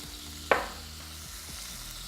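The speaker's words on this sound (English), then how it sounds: "Go ahead and drop these onions in real quick." Chopped onions hit a hot pan where steak is already browning, giving one sharp sizzling burst that fades into a steady low fry, with a second burst at the very end.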